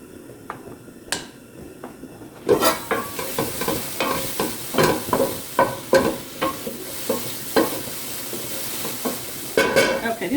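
Mushrooms frying in a pan for turkey stroganoff start as a quiet hiss, then a louder sizzle with a rapid series of stirring scrapes and clicks, close and continuous, with no one talking.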